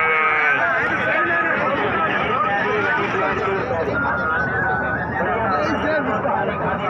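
Goats bleat repeatedly at a busy goat market (Madrasa Mandi), their calls overlapping with steady crowd chatter and background voices throughout.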